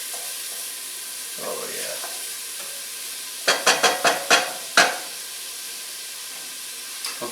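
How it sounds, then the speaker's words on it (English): Onion and garlic sweat gently in a pan over moderate heat while making seared scallops on pasta, a soft steady sizzle with a quick run of sharp clicking stirs midway, and someone speaks briefly. "I do want to make sure I get that onion really translucent and just sweat that garlic"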